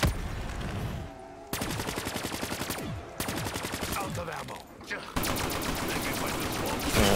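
Rapid automatic gunfire from a gun in Call of Duty Zombies on The Giant map, sustained bursts of fast, even shots separated by short pauses, loud and close with no talking.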